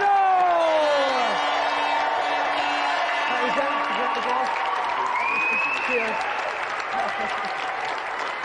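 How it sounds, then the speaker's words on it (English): Applause and cheering from a studio audience at a televised video-game show roll on steadily, mixed with sweeping electronic tones and a host's brief talk over the top. "Let's give another round of applause for our gallant Paul Turner and the great Frank Bruno!"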